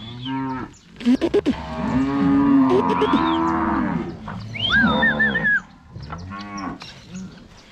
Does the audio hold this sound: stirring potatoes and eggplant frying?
no